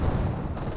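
A Panzerfaust anti-tank launcher fires in Company of Heroes 2, a single muffled, fairly distant boom amid constant battlefield rumble.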